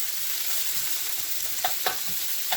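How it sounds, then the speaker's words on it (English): Garlic, onions and celery frying in a pan sizzle steadily with a bright hiss, while a few soft utensil taps and scrapes mark a light stir. No one speaks. "So, we're gonna just give that a little stir."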